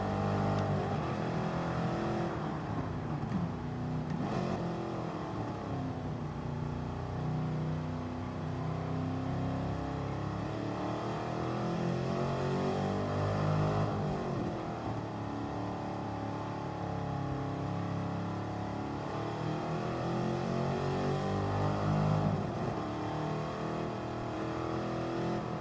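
A mid-engined race car in GT Sport revs steadily and loudly on track, its engine note rising and falling in sweeping pitch swells with no voices over it.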